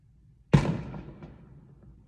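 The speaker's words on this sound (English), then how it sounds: "Ooh, firework." A single sharp boom from a firework, with a rumbling decay that trails off over the next second or so, heard alone.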